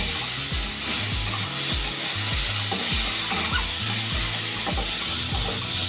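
Chopped onion and tomato sizzle steadily in a hot pan while a spatula stirs them in repeated close scraping strokes over the continuous frying hiss.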